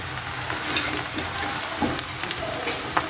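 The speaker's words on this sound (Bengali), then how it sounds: "এখন এই যে ধনিয়া পাতা দিয়ে তারপরে নাড়া দিয়ে তারপর নামিয়ে নেব" Fish curry being stirred in a pan after coriander leaves go in, a steady soft sizzle with repeated scraping strokes of the spoon, close and alone.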